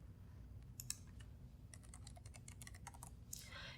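Quick, uneven keystrokes on a computer keyboard while the Windows Start menu search is typed into, light clicking taps in short bursts against a steady low background hum, no talking.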